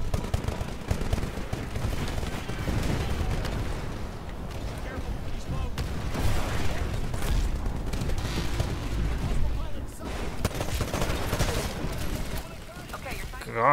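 Gunfire from enemies shooting at the player in the video game Titanfall, a steady dense barrage of shots and booms running through the whole stretch, with someone talking over it.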